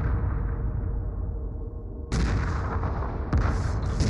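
Space battle weapons fire in the Homeworld Remastered strategy game: a sustained rumbling barrage, then sharp, loud booming blasts cutting in, with no voices.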